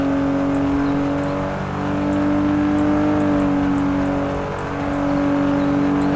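A fancy car in the Denizen video game drives along with a steady, loud engine hum and whine, swelling slightly in pitch as it revs, with faint periodic high ticks over the top.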